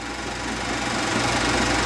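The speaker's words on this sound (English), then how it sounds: "as the tractor moves down the field" A 1950s Allis Chalmers WD 45 tractor engine runs steadily while moving down a field, a continuous loud mechanical drone with a knocking rhythm and no voices.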